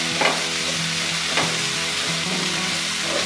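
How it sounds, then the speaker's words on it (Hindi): Soya chunk fried rice with spring onions being stirred in a pan, a steady close sizzle with a couple of scraping spatula strokes, no voices. "अब इसमें हम डाल देंगे स्प्रिंग ऑनियन भी, इसको अच्छे से मिला लेते हैं सारे चीज़ को।"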